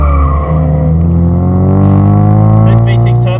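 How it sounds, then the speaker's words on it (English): A 4-cylinder turbo car engine revs loud and close from inside the cabin on a charity lap at Luddenham, with a strong steady drone that climbs in pitch. "No, this is 4-cylinder turbo."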